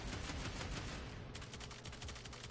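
Rapid gunfire from the video game Warframe lands headshots, a dense burst of quick repeated shots with no gap, loud and close.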